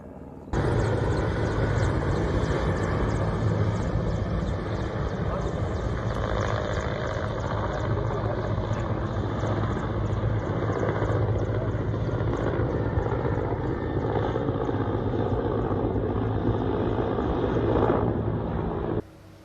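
A helicopter spraying to control a locust swarm, its steady, loud rotor and engine drone running continuously close by for nearly twenty seconds before cutting off abruptly.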